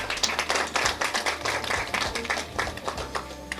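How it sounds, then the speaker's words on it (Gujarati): Audience clapping for award recipient Meenakshi at a women's day award event, a brief burst of dense, fairly close applause at steady volume. "મીનાક્ષી માટે જોરદાર તાળી"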